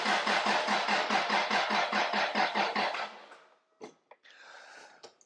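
A Toyota 1JZ engine cranks over in a steady, rapid chugging rhythm for about three seconds, loud and close, then the cranking stops, followed by a few brief clicks and a hiss.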